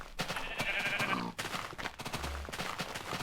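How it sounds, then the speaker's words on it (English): Sheep bleat in a Minecraft game world, a sustained wavering cry standing out clearly over busy game noise, with a low rumble and clicks around it. "What are all these sheep doing?"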